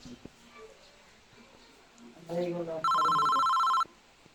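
A telephone rings with a bright, steady electronic bell tone lasting about a second, loud and close, following a short buzzing burst, with people talking around it.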